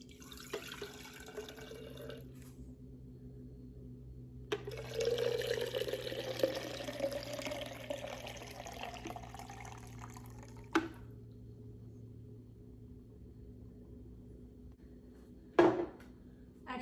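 Freshly made juice is poured out in a quiet kitchen, a liquid stream lasting several seconds mid-way, with faint hum before and a couple of sharp clinks after.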